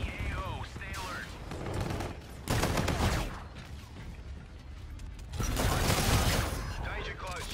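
Gunfire in a Call of Duty: Infinite Warfare multiplayer match: several loud bursts of rapid shooting with mechanical clanks and creaks between them, and game voice chatter in the mix.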